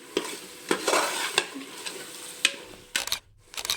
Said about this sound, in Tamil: இப்போ இதுவும் நல்லா அந்த எண்ணெயிலே வணங்கணும்